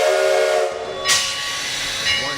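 Sierra No. 13, an 1891 steam locomotive, starting off with a loud steam hiss and a brief rising whistle-like burst, then steady chuffing noise, close and without talk.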